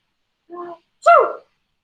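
A teacher's sneeze, muffled into a covered mouth: a short breathy intake, then one louder stifled burst, close and alone in a quiet room.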